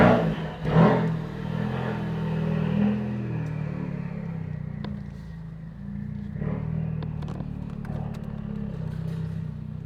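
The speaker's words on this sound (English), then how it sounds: "the first thing that I noticed, of course, with the Mountune cold air intake is definitely the noise coming from the engine bay" A Ford Focus RS fitted with a Mountune cold air intake pulls away under acceleration, its engine a steady, loud low drone heard alone, with a brief surge near the start and gear-change dips later on.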